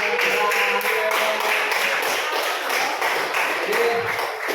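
Applause in an Indonesian sixth-grade classroom, a steady patter of many hands clapping together, continuous and fairly close throughout.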